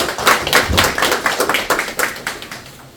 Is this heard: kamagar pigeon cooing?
no